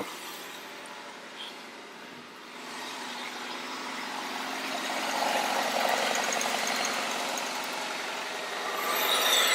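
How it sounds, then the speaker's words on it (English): A car engine cold-starts and settles into a steady idle, a broadband rumbling drone that grows slightly louder and rougher toward the end, with no talking. "Let's do a cold start, and let's see if the check engine light doesn't come on."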